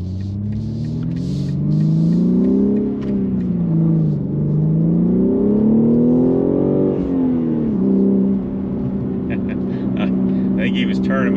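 A 2021 BMW G80 M3 accelerating, its engine note rising and falling through gear changes as a steady, loud drone from inside the car, then settling to a cruise while people talk.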